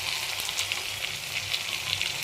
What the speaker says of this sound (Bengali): এবার আমি মশলা বাটাটা দিয়ে দিচ্ছি